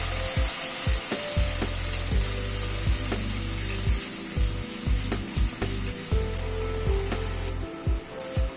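Poppy seed and curd mixture stirred in a pan over a very low gas flame, with a steady scraping, rubbing sound of the utensil repeating in uneven strokes throughout, close and fairly loud with no talking.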